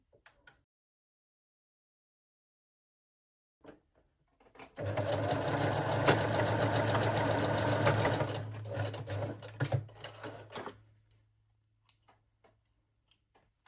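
A sewing machine runs in one steady burst of about six seconds, stitching a locked seam on a reversible thong-style bikini bottom, with a low hum under the rapid needle chatter, then slows and stops, followed by a few faint clicks.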